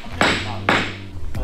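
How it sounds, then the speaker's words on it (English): A hammer strikes a car mirror in a shop while it is being straightened, giving two sharp metallic blows about half a second apart and a third lighter hit, close and loud. "What are you hammering away on?"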